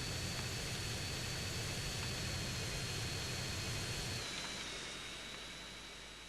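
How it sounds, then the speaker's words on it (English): The Hydra jet's engine in the game GTA San Andreas gives a steady, loud broadband roar with a faint whine. It drops in level after about four seconds and then fades gradually, with no talk over it. "I can hear a plane that's not going at full."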